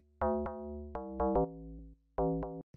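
Clicky FM sine-wave bass synth with a pitch envelope plays a short rhythmic phrase of seven or eight punchy, tonal notes, each opening with a sharp click attack, clean and isolated with no voices.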